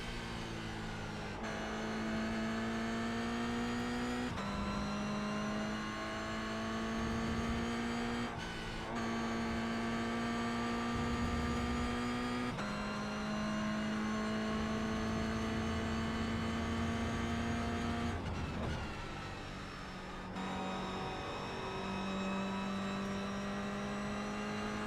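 GR86 race car engine in the iRacing sim, droning and revving steadily through repeated upshifts and brief lifts, a continuous close engine note with no voices over it.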